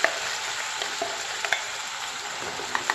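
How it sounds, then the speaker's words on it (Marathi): Ground masala paste stirred into hot oil tempering while cooking a gravy dish of colocasia-leaf rolls, giving a steady soft frying sizzle with a few light clicks of the stirring spoon against the pan. "आता ही फोडणी या वाटणामध्ये व्यवस्थित मिक्स होईल अशा पद्धतीने खरपूस आपण ती खमंग असा सुगंध येईपर्यंत परतवून घ्यायची आहे"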